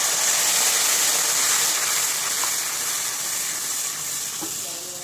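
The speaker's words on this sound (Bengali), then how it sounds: "তেলের মধ্যে আমি একটু কাসুরি মেথি দিয়ে দিচ্ছি" Kasuri methi and spice powders including garam masala sizzle in hot oil, a steady close hiss that fades slightly toward the end, with faint scattered clicks and no talking.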